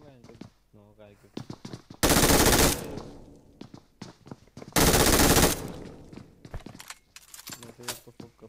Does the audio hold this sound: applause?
no